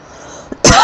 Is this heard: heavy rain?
no